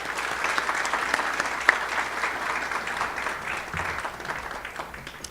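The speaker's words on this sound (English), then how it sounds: "One more round of applause for our 8th graders" A steady round of applause from an audience at an evening essay contest awards event honoring 8th graders, moderate and continuous clapping with a brief louder clap spike, no talking.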